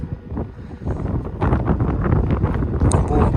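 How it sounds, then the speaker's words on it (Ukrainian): Strong gusts buffet the microphone outdoors at a building site where rubble, gravel and sand have been delivered for extending an oil mill, a loud, continuous rumbling roar that grows heavier halfway through. "Вітер сьогодні у нас страшний"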